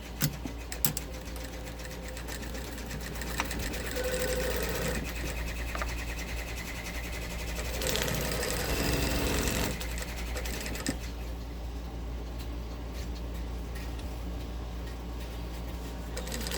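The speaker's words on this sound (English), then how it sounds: "we're just going to sew this from the top all the way around." A sewing machine stitches the front and back of a lined, cuffed Christmas stocking together, running as a steady, continuous mechanical whir for most of the stretch, with short pauses and speed changes along the way.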